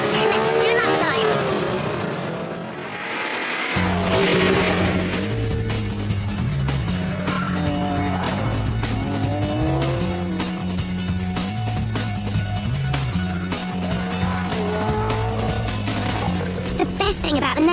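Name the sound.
Noble twin-turbo track day car lapping a race track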